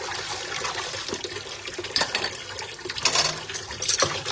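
Dishes are washed under a running tap: steady splashing water with clinks and scrapes of plates rising and falling, close and fairly quiet, with no talking.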